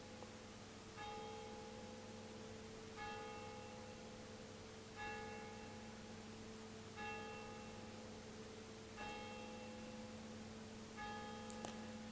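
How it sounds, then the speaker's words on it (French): A meditation bell rings six times at steady intervals of about two seconds, each clear metallic strike followed by a long shimmering decay over a steady low hum, with no voices. "Est-ce que vous êtes qu'avec le son de la cloche?"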